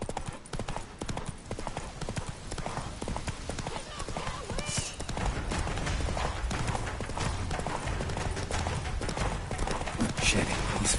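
Hooves of Geralt's horse Roach pound in a fast, steady clip-clop gallop in The Witcher game, close and continuous beneath shouted voices and game sound.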